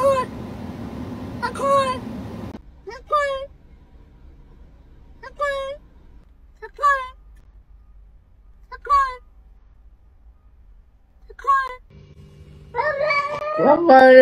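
A pet cat meows repeatedly from inside a car, about half a dozen short, clear calls spaced a second or two apart over quiet, with brief voices or noise at the start and end.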